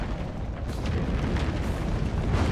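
A magma worm in the video game Risk of Rain 2 rumbles and erupts in a dense, continuous, booming roar that fills the whole stretch without letup.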